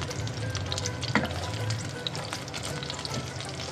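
Slices of pointed gourd frying in hot oil in a pan, a steady dense sizzle with faint stirring scrapes, close and continuous throughout.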